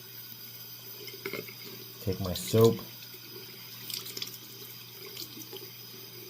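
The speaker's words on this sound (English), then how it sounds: "You want to make sure that the water is not too hot, not too cold." Tap water runs steadily into a sink at low level, swelling briefly louder in the middle as something passes under the stream, while a person speaks a few words over it.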